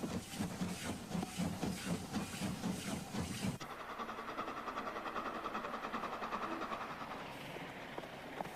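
A train runs past with a rhythmic rolling clatter and hiss of steam, loud for the first few seconds and then dropping to a fainter, steady hiss and rumble for the rest.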